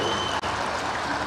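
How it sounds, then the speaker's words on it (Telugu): Applause from a large crowd of farmers at a Telangana government scheme launch event, a dense continuous wash of clapping that holds steady for the whole stretch with one brief dip. "గట్టిగా చప్పట్లు కొట్టండి."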